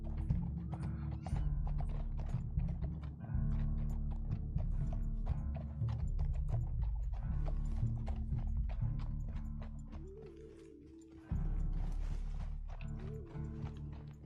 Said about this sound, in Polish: Będzie odcinek zjeżdżania koniem po górach.